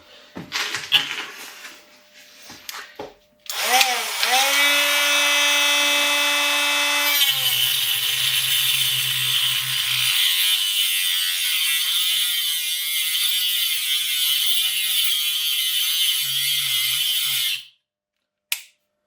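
Cordless mini angle grinder cutting a 2 mm wall steel profile tube, about 20 by 20 mm: a whine rises as the motor spins up, then a loud, steady, harsh grinding roar that holds for about ten seconds before cutting out abruptly.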